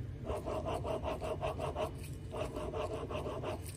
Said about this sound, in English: you can hear them bearings